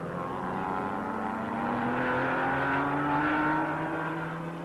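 Racing cars pulling away at the start of the 1961 Le Mans 24 Hours, among them a 3-litre Healey and a 750 Lotus, give a steady engine roar with rising pitch as they accelerate, loud and continuous.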